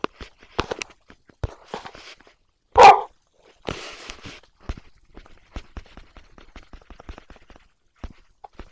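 Dogs bark in a few separate bursts, one loud bark standing out, between soft footsteps and light movement noises.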